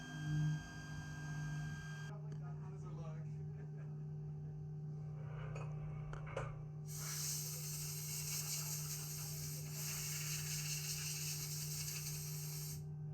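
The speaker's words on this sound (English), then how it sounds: "The lathe hums, calipers click, shavings curl away with every pass." A lathe in a workshop machines rocket parts, giving a steady mechanical hum with a loud hissing, whirring burst in the second half and a few small clicks and clatters.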